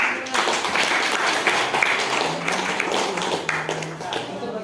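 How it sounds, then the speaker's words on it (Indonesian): Students in a senior high school class clap together in a steady, moderately loud patter, with voices mixing in throughout. "tepuk tangan"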